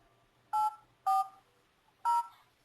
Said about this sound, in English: I'll dial this on speaker here, and then you'll be able to hear them